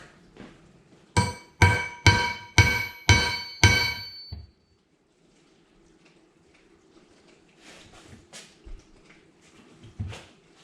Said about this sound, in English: Let me get my ball peen hammer.